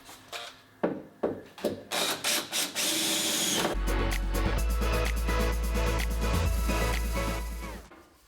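A drill whirs in short bursts, then runs in a long, steady grinding whine as it pre-drills holes in sheet metal on a 1969 Porsche 912 before stopping.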